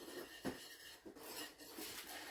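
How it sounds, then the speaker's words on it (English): A whisk mixing biscuit batter in a single bowl gives soft, quiet scraping and light clinking strokes at an irregular rhythm, with no talking. "Take a whisk and just whisk this up."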